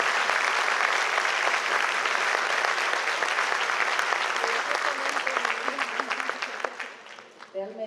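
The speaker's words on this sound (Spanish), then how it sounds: "que le regalemos un fuerte aplauso." Audience applause fills a university hall during a law-week event as an engineer is introduced, a dense, steady wash of many hands clapping that slowly thins and fades toward the end, with a few voices surfacing.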